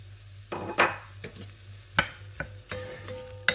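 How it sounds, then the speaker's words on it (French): Onions searing in hot butter in a cast-iron pot give a steady low sizzle, broken by several sharp stirring scrapes and clatters, close up, with no talking. "je vais venir faire saisir mes oignons"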